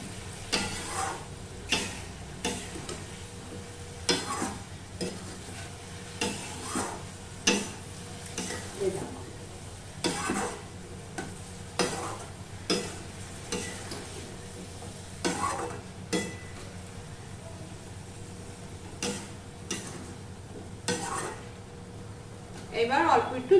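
Banana flower, potato and coconut being sautéed in a pan, a spatula scraping and knocking in regular strokes roughly every second over a low steady sizzle, with someone talking throughout.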